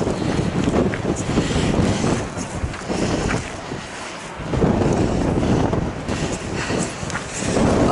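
Strong wind gusts on a Pacific Crest Trail hiking route buffet the microphone with a loud, rumbling roar that swells and eases in waves.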